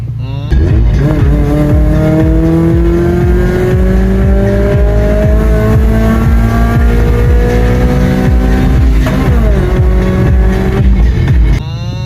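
Turbocharged Toyota 1NZ engine in a modified car revving hard toward 8000 rpm, a loud continuous rising engine howl with steady harmonics that drops off sharply near the end.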